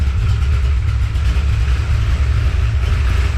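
A 1988 Monte Carlo engine idles with a steady, deep low rumble from the exhaust after a muffler swap, constant and fairly loud, with no voices.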